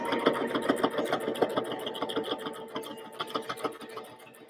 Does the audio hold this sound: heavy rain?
no